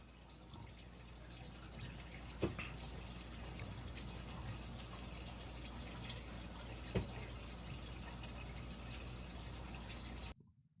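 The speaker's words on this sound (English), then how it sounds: "is that water sound?" Water from a tap runs in a faint, steady trickle, broken by two distinct drips a few seconds apart, with no voices.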